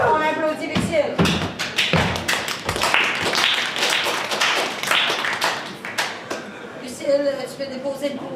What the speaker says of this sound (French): Alors, on applaudit Lucille.